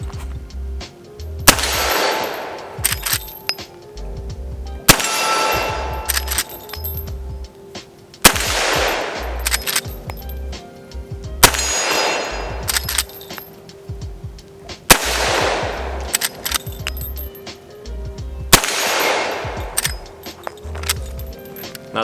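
A Henry .45 Colt Mare's Leg is fired one-handed outdoors: six loud, sharp gunshots spaced about three seconds apart, each with a ringing decay, and quieter mechanical clacks of lever cycling between shots.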